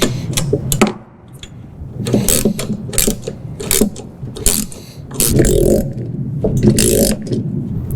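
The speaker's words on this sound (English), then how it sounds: "Now to tighten these up, we're going to need a 7/16 socket" Ratcheting socket wrench with a 7/16 socket tightening nuts while assembling a John Deere 42-inch lawn sweeper, rapid clicking bursts repeating across the clip at close range with steady handling noise between.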